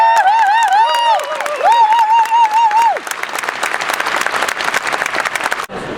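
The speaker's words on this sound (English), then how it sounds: "A round of applause for our Dean's Honored Graduates" Applause for honored graduates at a graduation ceremony: a big crowd claps loudly and continuously while bright whistles ring out over the first half, then dense clapping carries on before cutting off near the end.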